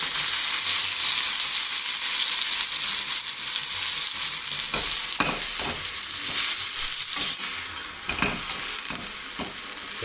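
Small cheese-filled galettes fry steadily in a hot pan, a continuous close sizzle with a few sharper pops and crackles breaking through, no voices.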